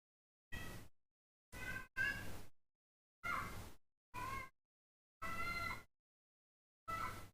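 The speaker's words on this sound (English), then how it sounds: "I'm literally just listening to my cat scream at me." A cat meows loudly seven times in separate drawn-out, whiny calls, some close together and others spaced apart, each standing alone against silence.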